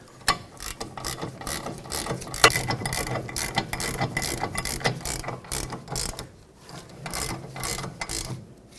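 Ratchet clicking in quick bursts while tightening the two brake caliper bracket bolts on a Pontiac G6 rear brake, close and fairly loud with short pauses between strokes, no talking.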